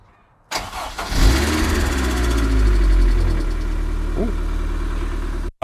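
An MG TF sports car engine cranks over and catches, then settles into a steady, loud idle close by with a low rumble throughout, with no one speaking.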